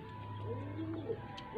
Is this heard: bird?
yes